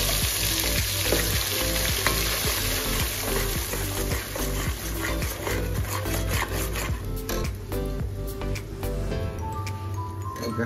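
Onion paste fries in a pan for chicken kosa, with cumin seeds already in, making a continuous loud sizzle broken by frequent stirring scrapes and knocks against the pan.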